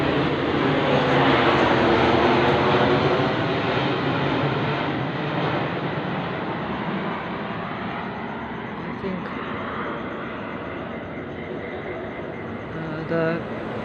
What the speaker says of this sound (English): the plane is going over